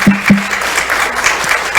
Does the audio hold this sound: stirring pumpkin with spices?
no